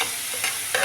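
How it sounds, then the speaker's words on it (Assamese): Oil hisses in a hot wok on a gas stove, a brief dense sizzle with two small flare-ups, and nothing else audible. "কেৰাহীখন গৰম হৈ গৈছে, মই এতিয়া ইয়াত তেল দিছোঁ।"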